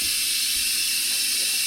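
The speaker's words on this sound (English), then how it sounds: "but let's steam some milk" Espresso machine steam wand steaming milk, a steady loud hiss of high-pitched steam running continuously without pause, with a faint low bubbling underneath.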